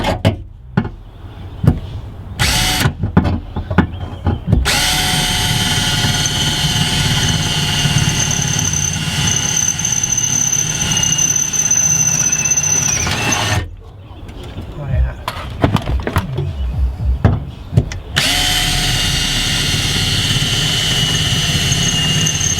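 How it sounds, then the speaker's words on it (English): A power drill bores out the tack welds holding a part inside a Toyota Tacoma Double Cab, running in a long, steady, loud whine, stopping, then starting again for a second stretch, with short handling noises between. "drilling out the holes, their little tack welds"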